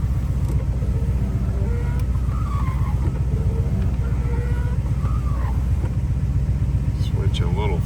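A 1987 GMC K1500 pickup engine idles steadily close by, a constant low, even rumble that holds for the whole stretch while a person talks over it.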